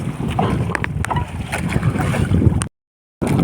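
Wind rushes steadily past a new outrigger boat under sail, a continuous blustery roar with water gurgling beneath, cutting out briefly before resuming.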